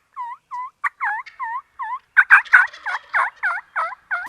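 Turkey yelps during a spring turkey hunt: a string of evenly spaced, loud, close calls, then a harsher, faster burst of cutting, then more steady yelps, with no talking.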